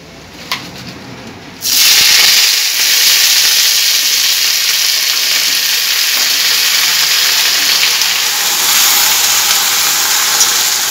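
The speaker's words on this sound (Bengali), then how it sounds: "এরপরে কেটে রাখা সব সবজি আমি দিয়ে দিচ্ছি।" Cut taro and pumpkin pieces drop into a hot pan and set off a sudden loud sizzle that holds steady and strong to the end, after a short quiet start.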